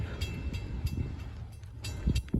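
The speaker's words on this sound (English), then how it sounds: "we got a CPKC train heading down the line." A CPKC freight train rumbles past on the line at Lake Avenue in Blasdell, New York, a low steady roar with rhythmic wheel clacks and squeaks over the rail joints.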